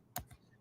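A couple of quick, faint computer keyboard keystrokes close by in a quiet room.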